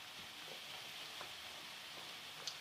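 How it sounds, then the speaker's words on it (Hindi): Besan gram-flour dumplings fry in oil over a low flame, making a quiet, even hiss with a few faint pops and a small tap near the end. "तमाम को जो है मैं फ्राई कर लेती हूँ"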